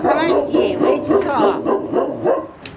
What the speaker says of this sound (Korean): 왜 이래 짖노? 가만있지 왜 짖어?